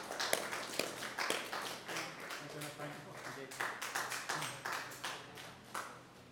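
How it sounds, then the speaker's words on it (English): Audience clapping at the CVR World Cup race event in London, scattered, uneven claps close by with voices talking over them for several seconds. "Let's have a round of applause."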